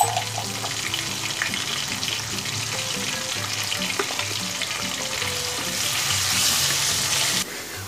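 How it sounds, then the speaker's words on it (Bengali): Potatoes frying steadily in hot oil with salt and turmeric for a Bengali rohu fish curry, a dense continuous sizzle close up with occasional stirring, growing slightly louder near the end before dropping off. "আলুটা আমি নুন হলুদ দিয়ে ভালো করে ভেজে নেব।"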